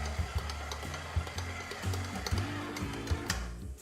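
Stand mixer churning bun dough with butter clinging to the bowl sides, a steady close motor whir with rhythmic low thumps as the dough slaps around, running alone without talk.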